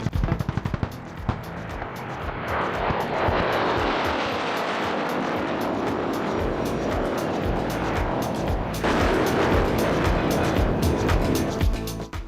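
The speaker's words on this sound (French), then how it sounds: "j'avais très envie de les voir, 3 MiG-17 volant ensemble" Three MiG-17 jet fighters fly together at a large air show, a loud, sustained roar of engines that swells and holds steady, with a sharp renewed surge near the end.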